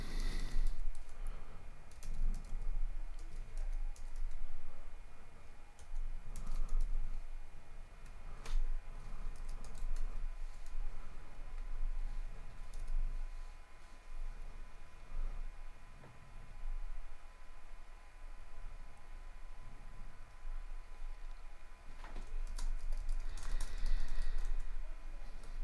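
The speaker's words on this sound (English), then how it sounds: "And I enter my card information here." Card details typed on a computer keyboard: a steady patter of close key clicks over a constant background hiss, with no talking.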